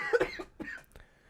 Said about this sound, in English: all of a sudden started coughing